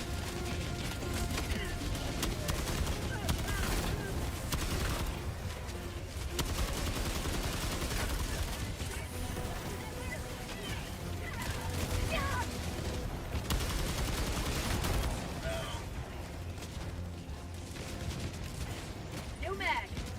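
Gunfire from a weapon in Helldivers 2, a dense, continuous clatter of shots and explosions running throughout, with someone talking over the battle noise.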